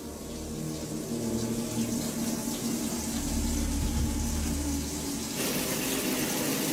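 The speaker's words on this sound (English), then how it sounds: "the sound of running water can be heard from the kitchen sink" Water running from a kitchen sink tap, a steady hissing stream that holds at an even level throughout and brightens slightly near the end, heard alone at close range.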